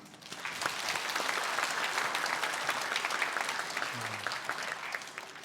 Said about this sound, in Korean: 큰 박수로 하나님께 영광을 돌립니다.